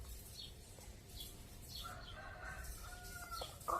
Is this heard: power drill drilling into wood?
no